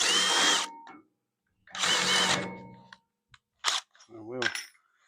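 A 3/8-inch bit drills holes for the bumper of a trucker-themed mailbox in two loud, steady bursts of about a second each. Brief clicks and metallic clinks follow, with a short squeal at the end.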